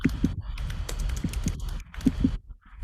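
Irregular keystrokes clatter on a nearby computer keyboard during an online meeting, in quick bursts with short gaps.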